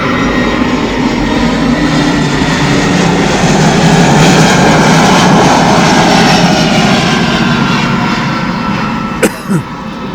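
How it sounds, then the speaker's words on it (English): An aeroplane engine drones loudly overhead outdoors, a steady sustained roar that holds for the whole stretch and swells slightly in the middle, with a faint brief knock near the end. "Aeroplane."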